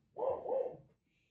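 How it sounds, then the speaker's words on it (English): A dog indoors gives a quick double bark, two close woofs heard from a moderate distance in an otherwise quiet house. "you'll hear some barking and some noise"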